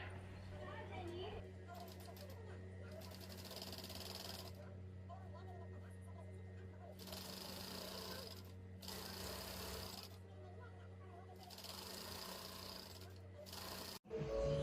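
Sewing machine stitching embroidery onto a uniform blouse, running in several steady whirring bursts of about one to two seconds separated by short pauses, close and fairly quiet, with a faint background hum throughout.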